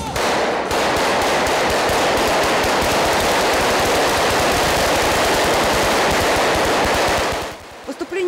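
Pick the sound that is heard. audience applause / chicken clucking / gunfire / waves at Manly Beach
gunfire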